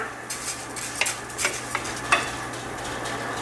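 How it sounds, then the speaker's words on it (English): A spoon scrapes and clinks around a pot of rice in boiling water in a few uneven strokes, with soft bubbling and sizzling underneath. "Give it a quick stir."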